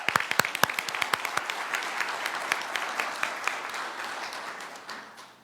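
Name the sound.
applause for a group at school board meeting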